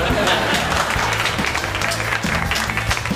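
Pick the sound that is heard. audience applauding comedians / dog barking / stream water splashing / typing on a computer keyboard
audience applauding comedians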